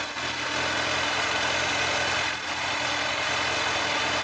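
A Kawasaki ZZR1100 engine idles close by, a continuous low rumble with a faint mechanical whir, running evenly without revving for the whole stretch.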